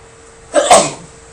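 A single loud, close sneeze bursts out during a precalculus lesson, short and sharp against a quiet room.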